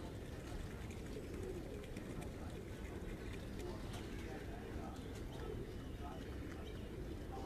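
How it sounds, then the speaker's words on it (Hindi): Pigeons at a rooftop loft kept for high-flying birds coo softly beneath steady, dense broadband noise, with someone talking over them throughout. "यहाँ से कबूतर निकलेंगे और ये कबूतर निकलना शुरू हो गए"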